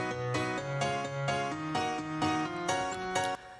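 The second piano part for a progressive house build-up plays choppy, rhythmic chord stabs over a low sustained note, bright and close, cutting off abruptly just before the end.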